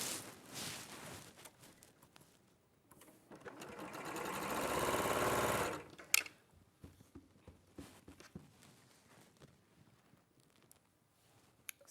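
A sewing machine chain-stitches fabric pieces in a continuous whirring run of several seconds, rising and then stopping abruptly, followed by scattered clicks and handling noises.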